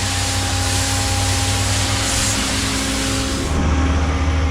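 Water spraying hard onto the metal grate of a concrete pump, a loud, close, constant hiss over a steady low machine hum that shifts slightly near the end.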